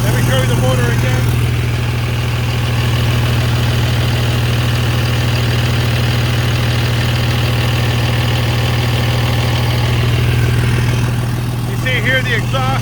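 A 2003 Freightliner SC-8000 truck engine idles steadily with a constant low rumble, close and loud throughout, with brief faint higher sounds near the start and end.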